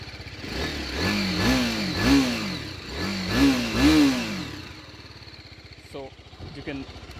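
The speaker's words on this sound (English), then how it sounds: "So you can hear the exhaust note of the bike." A BMW G 310 RR motorcycle revs repeatedly, its exhaust rising and falling in several close, loud blips before settling, followed by a brief voice.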